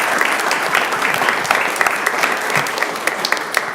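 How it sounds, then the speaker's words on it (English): A school board meeting audience gives steady, loud applause for a girls' volleyball team: dense, continuous clapping from many people close by, with a few sharper claps standing out. "So let's clap it up for them first."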